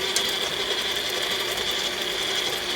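An electric mixer whirs steadily while whisking pound cake batter, giving a continuous close mechanical drone with a faint rattling texture and no voices.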